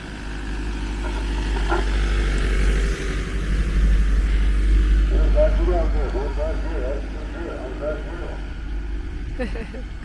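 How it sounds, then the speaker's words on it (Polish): A junk collector's car rolls past on a residential housing estate in Turkey, its steady low engine rumble filling the street alongside faint background voices and a few brief higher sounds. "A tutaj akurat jedzie auto, które zbiera starocie."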